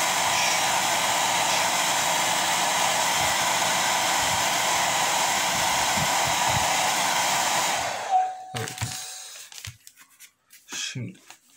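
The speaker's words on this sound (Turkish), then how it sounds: "Şimdi ben bunu yine kurutuyorum." A hair dryer blows steadily and loudly for about eight seconds, drying gold leaf on painted ceramic, then switches off and is followed by brief handling clatter.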